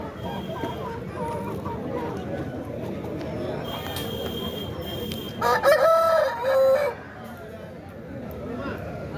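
A rooster crows once at an outdoor country chicken market, loud and close, rising over a steady murmur of crowd chatter and voices bargaining.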